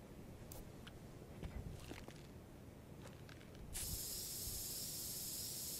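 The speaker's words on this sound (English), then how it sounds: "I can spray goo out of my hands." A faint hissing spray of goo from a character's hands in the video game Dead Rising 2 starts abruptly partway through and keeps going steadily, after scattered soft squishy clicks over quiet background noise.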